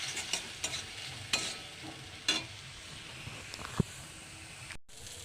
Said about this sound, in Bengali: এবার আমি অনেকক্ষণ ধরে কষবো, এটা থেকে তেল বেরিয়ে আসবে গা থেকে।